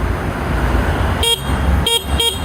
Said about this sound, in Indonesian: ada klakson gitu. Klaksonnya kayak gini suaranya